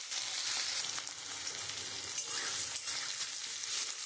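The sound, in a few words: chopped onion frying in a pan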